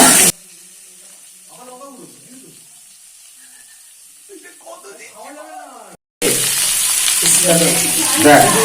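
Potatoes sizzle and fry in a pan while being stirred at an outdoor village-style picnic cook-up, a steady hiss with scraping stirs, quiet at first and then much louder and busier, with people talking over it.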